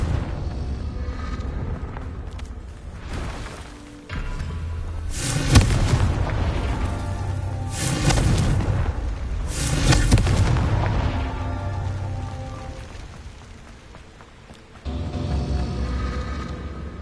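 Blast spells explode in the Hogwarts Legacy game as a series of heavy booming bursts about every two seconds over a steady rumbling background, each one loud with a fading tail.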